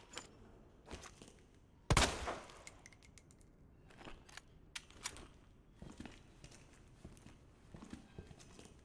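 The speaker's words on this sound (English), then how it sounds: "Let's try this shotgun out." A single loud, sharp shotgun blast in the survival horror game Resident Evil 2 Remake, followed by quieter thuds, footsteps and scattered impacts in a hushed setting.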